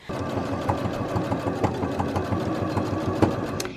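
Sewing machine top stitching binding onto a Minky fabric blanket, a rapid, even mechanical whir and clatter of the needle running steadily, close and fairly loud, with no talking.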